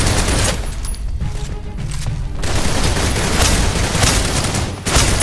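Gunfire in the Snowbreak: Containment Zone video game: loud, sustained volleys of shots and bursts, with a short quieter lull in the middle before the firing picks up again.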